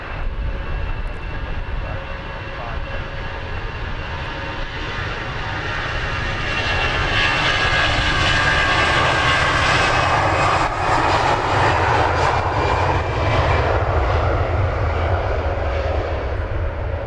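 An airliner takes off for Amsterdam at London Luton Airport, its engines a loud, sustained roar that grows stronger midway and holds steady, with no talk over it.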